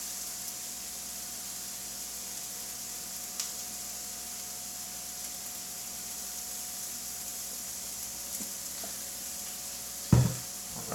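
Eggs fry in a pan for a breakfast sandwich, a steady close sizzle and hiss that holds throughout, with a couple of faint knocks and one brief louder clatter near the end.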